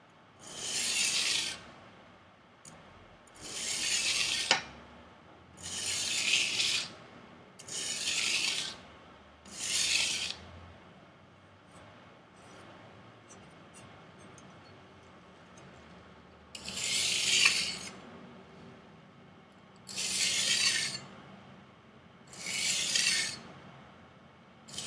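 A chef knife edge is rubbed at an angle across an abrasive surface to convex it, producing repeated soft, hissing rasping strokes in a slow, even rhythm with short pauses, close and quiet, with no talking.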